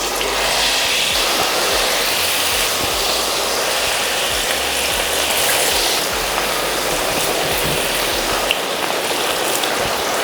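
Pieces of ivy gourd coated in batter fry in hot oil, giving a dense, steady, loud sizzle and crackle that runs throughout with no talking.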